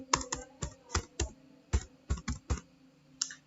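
Keys tapped on a computer keyboard to enter a mobile number, about a dozen distinct close clicks in an uneven rhythm, some quick pairs, with no voices.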